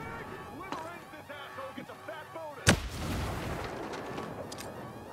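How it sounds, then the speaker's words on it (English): A single sharp grenade blast during an airsoft-style team operation cracks loudly midway, followed by a lingering rumble, with a voice speaking just before it. "Grenade out."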